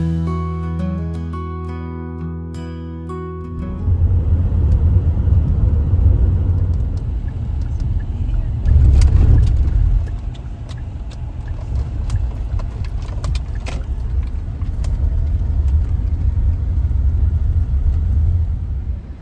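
A car drives along a road toward a farm produce stand, its engine and tyres making a steady, loud rumble with a brief louder swell midway, after some music fades out at the start.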